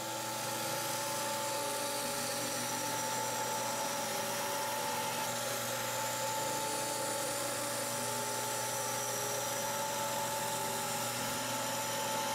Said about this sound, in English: I'm just putting in these initial bevels, I'm using the same techniques that I'll always use when grinding bevels